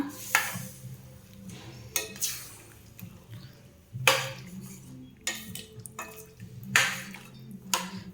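A spoon scrapes and clanks against a metal pot in steady, repeated strokes while stirring Kerala-style chickpea curry, with wet stirring sounds and faint background hum between the knocks.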